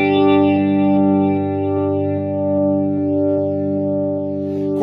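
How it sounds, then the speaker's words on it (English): A Fender Mustang LT25 guitar amp runs its Leslie rotary speaker preset on slow spin, giving a sustained, slowly swirling chord with gentle wavering and heavy effects, played alone without talking. "This is a Leslie sound."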